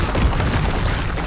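Confringo fire spell blast in the Hogwarts Legacy video game during combat: a short, dense booming burst with a low thud, loud and close, no talking.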